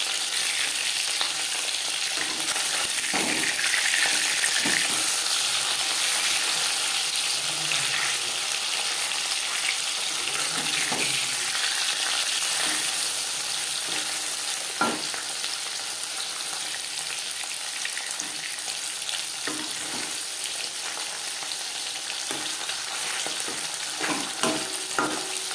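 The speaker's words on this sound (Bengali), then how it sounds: "একটা সাইড ভাজা হয়ে গেলে অপর সাইডটা উল্টে দেবো।" Bata fish frying in hot oil in a pan, a constant crackling sizzle with occasional sharper pops and stirring clicks, steady and close for the whole stretch.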